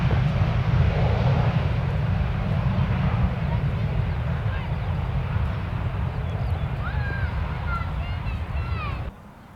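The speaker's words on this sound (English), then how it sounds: "Little thrust reversers out the back there" A jet airliner landing with thrust reversers deployed roars loudly and steadily in the distance-to-near, a broad rushing engine noise that fades off at the end; people talk faintly underneath. At London Stansted Airport.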